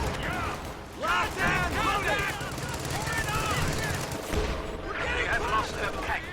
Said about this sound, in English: Sherman firing on those Volks Grenadiers.